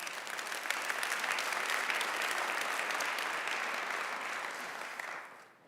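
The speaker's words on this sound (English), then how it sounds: "Can I get a round of applause for that story?" A conference audience applauds after a keynote, a broad, even roar of clapping from a large hall that holds steady and then fades out toward the end.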